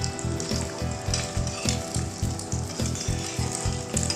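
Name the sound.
boiled eggs frying in oil in a pan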